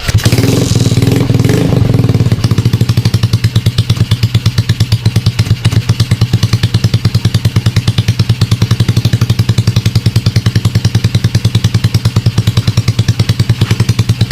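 A motorcycle fitted with an NLK open pipe exhaust and a piston-type carburetor conversion starts with a kick and then idles loudly and close, a rapid steady putter with a rough, throaty pulse.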